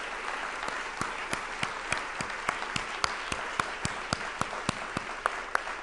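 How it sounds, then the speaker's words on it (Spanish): Audience applause for women who have faced the disease, a dense steady wash of many hands with a few louder individual claps standing out in a regular rhythm, sustained throughout at moderate level. "pido un aplauso para todas las mujeres que han enfrentado y salen adelante"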